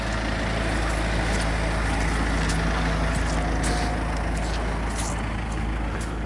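A truck idles and rumbles steadily at a muddy pipe-laying work site, a continuous low engine drone with a brief air-brake hiss, fairly close and without pause.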